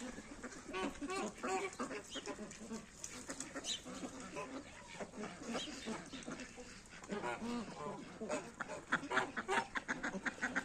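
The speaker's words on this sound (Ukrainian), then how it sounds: "А ось наші чубатурки." A group of crested ducks quacking and chattering continuously nearby, with other farm birds mixed in and a person speaking briefly underneath.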